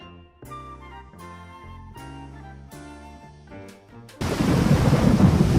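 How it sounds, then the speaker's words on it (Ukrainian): Plinking melodic notes play, then abruptly give way to a loud, dense hiss of pouring rain with a low rumble underneath. "Увага, дощик пішов."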